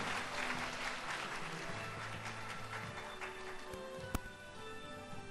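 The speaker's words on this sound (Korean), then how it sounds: "큰 박수로 맞이해주십시오." A school hall audience at a parents' talk concert applauds faintly and at a distance as a middle-school science teacher walks onstage. The soft, even patter of clapping is broken by one sharp knock.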